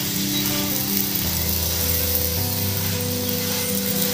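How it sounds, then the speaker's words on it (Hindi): A paneer paratha roasts in butter or ghee on a hot pan over a low flame, giving a steady, close sizzle and hiss that runs unbroken throughout, with no talking. "आप चाहें तो इसमें बटर या फिर घी भी लगा सकते हैं और इस तरह से इसको सेकेंगे"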